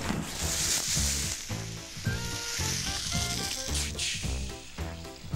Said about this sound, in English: this is your frozen holiday turkey in the boiling oil